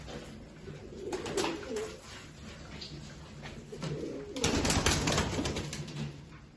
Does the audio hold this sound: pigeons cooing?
yes